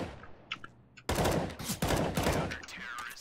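Video game gunfire erupts in dense, rapid automatic bursts after a few faint scattered shots, loud and continuous to the end.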